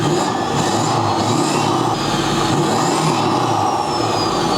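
A diesel truck engine fitted with oversized injectors revs hard and rowdy, a loud, steady roar with rough low-end rumble and high whine sustained throughout, close by with no talking.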